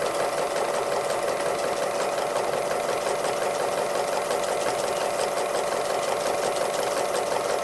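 A sewing machine stitches free-motion embroidery on the boxing-hare flower section of a quilt wall hanging, giving a steady, fast mechanical whir and rattle that runs unbroken from start to finish, with no voices.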